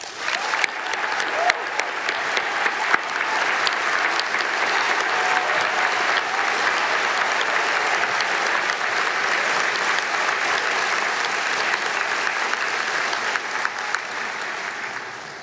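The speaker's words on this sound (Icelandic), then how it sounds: "Við skulum gefa þessum myndarlega hópi gott klapp." Sustained applause from a large audience greets university graduates at a ceremony in a hall, a dense, steady wash of many hands clapping that holds for the whole stretch before easing slightly at the end.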